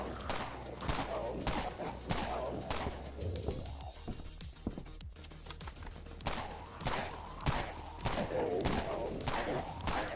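Rapid bursts of X Python gunfire against armored enemies in the Dead Frontier video game, loud repeated shots in clustered volleys with a brief lull midway, no talk over them.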